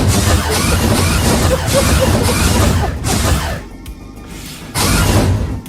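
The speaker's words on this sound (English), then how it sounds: "It's the sound of a space door." Sci-fi space door sound effect: loud airy whooshes and hisses like a pneumatic sliding door, a brief lull, then another strong burst of rushing air.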